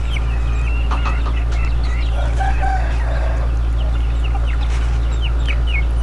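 Native chickens in a ranging area cluck and call repeatedly at close to middle distance, with a rooster-like crow among the short, scattered clucks over a constant low mechanical hum.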